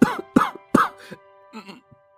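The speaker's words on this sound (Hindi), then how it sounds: "जोर से खांसने लगता है।" A man coughs loudly several times in a row, three sharp hacking bursts followed by a few weaker coughs and throat-clearing, close and with no background sound.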